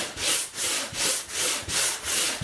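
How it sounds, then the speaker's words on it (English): Textured drywall being sanded by hand with a 3M sander fitted with reusable sandpaper, giving a close, steady back-and-forth rasping of about five even strokes in quick rhythm, with no talk. "So this is how you sand it down."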